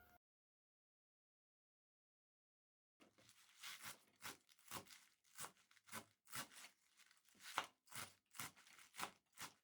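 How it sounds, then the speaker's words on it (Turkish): A knife chops spinach steadily on a cutting board, a run of crisp, evenly spaced cuts close by after a few seconds of silence. "Ispanaklarımı doğrayacağım"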